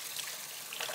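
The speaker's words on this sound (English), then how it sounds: "And I'm going to wash my hands." Tap water runs steadily into a kitchen sink as hands are rinsed clean of grit, a close, continuous splashing hiss lasting about a second with no talk over it.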